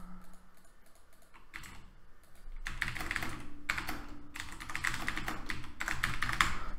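Fingers type on a computer keyboard in quick, irregular bursts of clicking keystrokes, fairly close and moderately quiet, with short pauses between runs; no voices are present.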